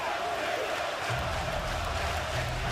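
A crowd at a live DCWF wrestling roadshow at Biker's Bayou cheers and roars continuously to rally a wrestler, a dense wash of distant voices with a low rumble rising partway through.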